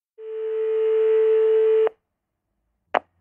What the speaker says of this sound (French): Au téléphone.